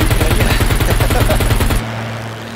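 Rapid, rhythmic machine-gun fire from an aircraft in a dogfight video game, a loud sustained burst that stops abruptly, leaving a low engine hum.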